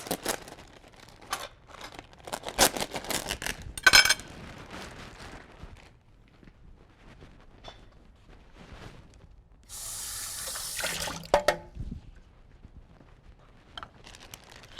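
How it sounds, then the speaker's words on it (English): Cranberries are handled under a kitchen tap, with scattered clatters, knocks and rustles, then a short burst of running water and splashing before things go quiet again. "I am going to rinse them off just a little bit because they aren't organic."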